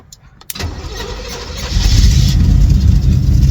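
Chevrolet El Camino engine starting, then idling steadily close by, with a rough low rumble that grows louder and heavier in its final seconds.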